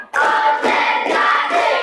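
A classroom of pupils clapping together in short counted bursts, loud and close, with the claps blurring into a crowd-like roar.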